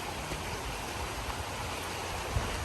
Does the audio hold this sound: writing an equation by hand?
no